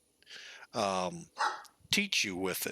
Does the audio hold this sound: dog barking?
yes